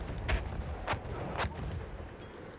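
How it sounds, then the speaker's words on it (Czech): Three distant, muffled gunshots ring out at roughly even intervals as a weapon is sprayed blindly in a Battlefield 1 multiplayer Rush match, set against low battlefield rumble. "Tady už se střílí, zkusím to tak jenom tak naslepo lehce pokropit."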